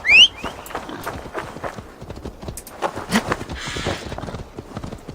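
Horse galloping in Assassin's Creed Valhalla, rapid clip-clop hoofbeats close by after a short high whinny at the start, steady rhythm with a brief rushing burst near the end.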